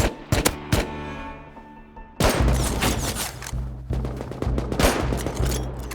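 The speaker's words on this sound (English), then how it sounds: "Oh, massive AK fight on me now." AK rifle gunfire in a Rust firefight: a few sharp single shots, then dense, loud automatic bursts close by with echoing booms, continuing steadily.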